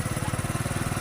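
A motorcycle engine runs steadily close by in rural Kashmir, a loud, rapid rhythmic putter with even pulses and no voices.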